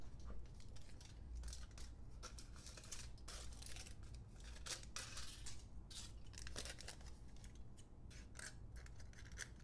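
Scissors snip repeatedly through thin aluminum foil ribbon, giving a steady run of close, crisp metallic cuts and crinkles over a constant low hum.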